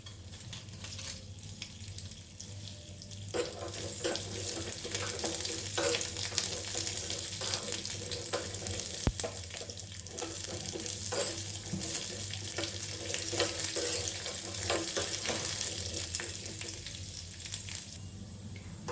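Chana dal and raw peanuts fry in white oil in a pan over a gas flame, giving a steady, close sizzle with scattered crackles and pops and occasional stirring scrapes, with no talking.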